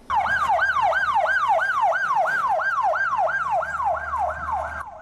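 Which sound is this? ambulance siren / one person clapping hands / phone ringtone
ambulance siren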